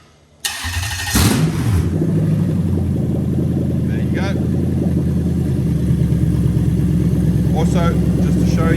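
A Lexus GS with a 1UZ-FE VVT-i V8 cranks and catches after a click, then settles into a steady, loud idle with a few light blips of revving; someone speaks briefly over the running engine.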